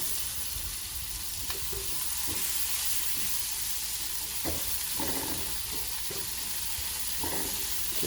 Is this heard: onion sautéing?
yes